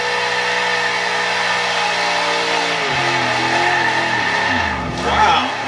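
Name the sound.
car engine in an Xbox Series X racing video game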